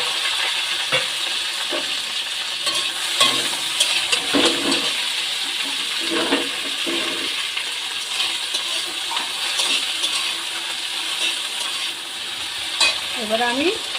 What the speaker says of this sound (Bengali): তেল গরম হয়ে গেছে, আমি এবারে এই ঢ্যাঁড়সটা তেলের ওপর দিয়ে দেব